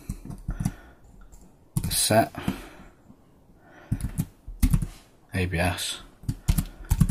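Bursts of computer keyboard typing, quick clicking keystrokes in short runs, alternating with someone speaking over and between them.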